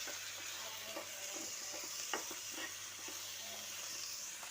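A spice mixture frying for a soybean and drumstick curry, a steady low sizzle with occasional soft stirring clicks, faint and continuous with no voices.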